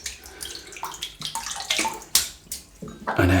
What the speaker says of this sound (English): So I'll just wet the brush